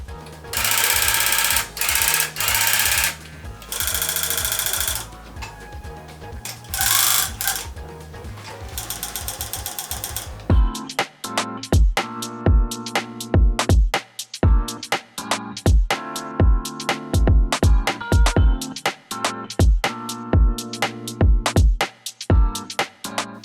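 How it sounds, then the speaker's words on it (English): A tufting gun punches yarn into a backing, first as a fast continuous mechanical buzz in loud bursts, then as a rapid series of sharp, rhythmic clacking strokes, close and dominant. "It's the tufting gun that I started out with."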